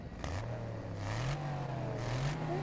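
A Mercedes-AMG car in the Test Drive Unlimited Solar Crown racing game starts up and revs, a short, fairly quiet engine note rising and settling in pitch.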